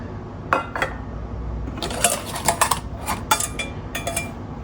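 A metal plate from a vintage 1940s BSA cook kit is handled, giving a series of close, bright metallic clanks and rattles that grow busier after a few isolated taps.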